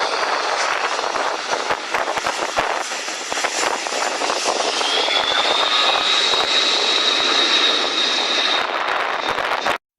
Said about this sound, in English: land an aircraft like this C-130 Hercules